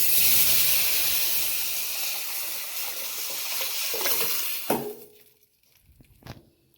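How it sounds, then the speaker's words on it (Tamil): Dissolved rasam liquid is poured into a hot pan and bursts into a loud, bright sizzle and hiss that slowly dies away, followed by a few faint clinks and bubbling pops. "இப்போ நம்ம கரைச்சி வச்சுருக்கிற ரசத்தையும் நம்ம ஆட் பண்ணிக்கலாம்"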